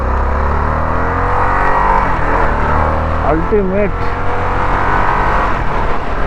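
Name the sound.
Harley-Davidson Sportster S motorcycle engine accelerating in sports mode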